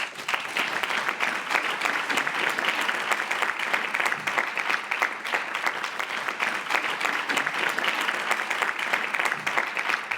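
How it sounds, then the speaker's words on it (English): An audience at a research presentation event gives steady, even applause that continues evenly throughout, a dense wash of many hands clapping with no speech over it. "I think they deserve a big applause."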